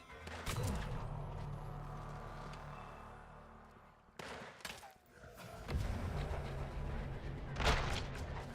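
Shotgun blasts in the Weird West video game, a few loud booming shots spaced several seconds apart over a low rumbling game background.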